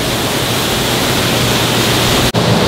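A big waterfall inside a zoo's indoor rainforest building roars in a loud, steady broadband rush, broken by one brief dip near the end.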